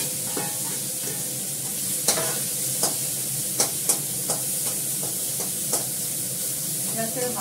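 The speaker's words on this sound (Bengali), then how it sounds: "পেঁয়াজটাকে ভালো করে ভাজবো।" Onions fry in a pan in oil left from frying fish, giving a continuous sizzle broken by repeated sharp scrapes and clicks of a utensil stirring them. No voices are heard.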